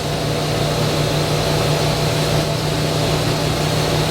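Wellcraft 3300 Martinique boat engine running steady at about 3,400 RPM, cruising near 21 knots: a loud, continuous low drone with a constant hum and broadband wash, no talk.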